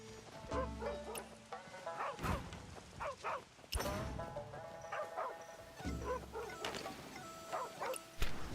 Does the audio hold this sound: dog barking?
yes